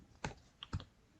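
Two separate key clacks on a computer keyboard, close and crisp, as a backup file name is entered on the command line in a quiet room.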